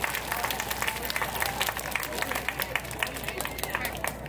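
Audience applause at an outdoor traditional Chinese music ensemble performance in front of a temple, with a continuous crowd of hands clapping at moderate distance and some murmuring voices mixed in.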